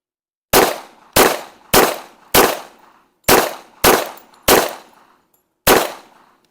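A 1911 pistol firing at an outdoor target range: eight loud, sharp shots, mostly evenly spaced with one longer pause before the last, each cracking and then decaying quickly.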